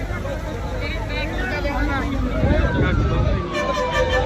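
A fire engine's wailing siren rises and falls beneath loud, busy talk and crowd noise at a village fire where cars are burning, with traffic rumbling underneath.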